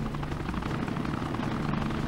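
Helicopter in the video game Hulk Ultimate Destruction, a steady low rotor drone with rumbling engine noise, loud and continuous throughout, with no talking over it.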